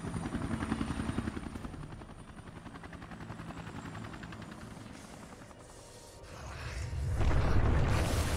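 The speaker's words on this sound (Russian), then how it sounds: "Я прикрою тебя с вертолета!" A helicopter in the video game Resident Evil Revelations 2 thunders with rapid rotor chop, loud and close, rising into a heavier rumble toward the end.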